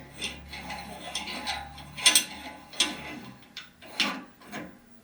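A nut is spun onto an assembled meat grinder with a series of uneven scraping, ratcheting clicks and rubs, several louder knocks standing out, close and without talk.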